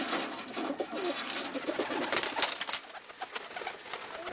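Pigeons in a pen coo continuously, a dense, noisy racket of overlapping bird calls close by with no talking.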